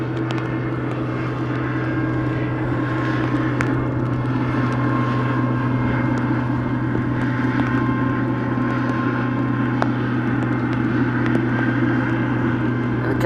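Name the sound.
tow truck passing by at Schiphol Airport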